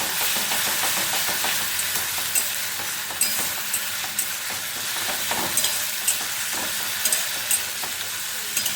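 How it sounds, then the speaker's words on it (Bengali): Vegetables with ginger, garlic and green chili paste frying in a pan: a strong, steady close sizzle with repeated spatula scrapes and knocks as they are stirred, with no talk. "এবার সবজিগুলো ভালোভাবে মিশিয়ে নেব।"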